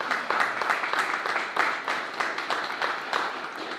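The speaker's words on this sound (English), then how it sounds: "I'd like to give them a round of applause" A crowd claps for a few seconds, a dense, steady patter of many hands at moderate loudness with no one speaking.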